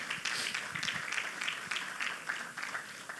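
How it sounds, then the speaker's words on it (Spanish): Church congregation applauding together, a steady dense patter of many hands sustained throughout at moderate level with no talk over it. "Denle ese aplauso a su Señor."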